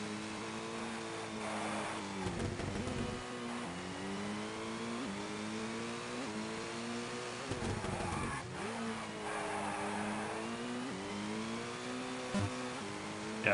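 A rally car engine in the Colin McRae Rally video game revs hard and repeatedly, rising through gears with brief drops at each shift and occasional tire scrabble, loud and continuous without talk.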